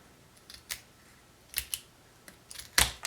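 Scissors snip a painted black jumbo popsicle stick, giving a few sharp, close clicks spaced irregularly, with a louder final cut.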